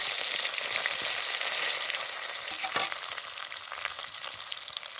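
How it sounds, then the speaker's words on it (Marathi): Curry leaves sizzle in hot oil with cumin seeds and garlic while dal tempering is cooked: a loud, steady, close frying hiss that fades a little partway through, with small pops and no talk. "कढीपत्ता घेतला पण कढीपत्ता टाकू आता"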